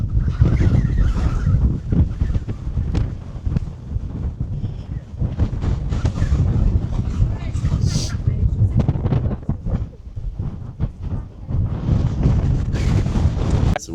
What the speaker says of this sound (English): The wind is back.